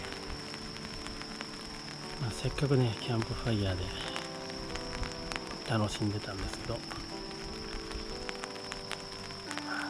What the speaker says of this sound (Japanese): 急に雨が降ってきまして、